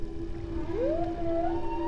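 A pod of young whales sings underwater, one clear rising, sliding tonal call sweeping upward over a steady low hum and rumbling water noise, close and prominent with no talk.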